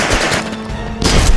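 Gunfire in the game Jagged Alliance: Back in Action crackles in quick, loud bursts of close shots, with a brief lull before another rapid volley.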